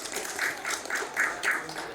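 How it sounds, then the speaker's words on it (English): An audience at an industry-day expo session applauds its panelists: steady, dense clapping from a crowd, moderately loud, with individual claps rising and falling in short bursts and no one speaking over it. "let's give a round of applause for our excellent panelists"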